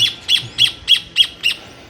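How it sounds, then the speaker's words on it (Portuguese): Small birds singing loudly in a tree, a run of six sharp, bright chirps repeating at an even quick pace, close and clear, with no voices. "os passarinhos acordaram bem"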